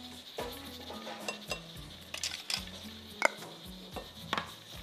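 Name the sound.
mixing carrot bread ingredients with a spoon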